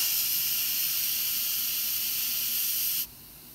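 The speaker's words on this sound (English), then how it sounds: "I'm gonna switch the little knob from sealing to venting, and it's gonna release a big cloud of steam" An Instant Pot's vent valve, switched from sealing to venting, releases steam in a loud, steady hiss for about three seconds, then drops away abruptly to quiet, with no one talking.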